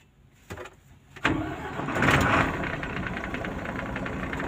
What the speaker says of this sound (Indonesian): Langkah awal kita hidupkan mesinnya.